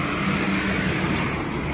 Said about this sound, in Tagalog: Kaya traffic ngayon dito.